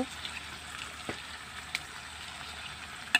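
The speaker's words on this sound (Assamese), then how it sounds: "এতিয়া ভালদৰে লৰাই লৈছোঁ" Spices with turmeric, ginger and garlic frying in a pan while being stirred, a faint, steady low sizzle broken by a few soft clicks of the utensil.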